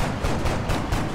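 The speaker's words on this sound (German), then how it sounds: "Erster Schuss daneben." Rapid gunfire bursts from the video game X-Com: The Long War, several loud close shots in quick succession filling the whole clip with no talking.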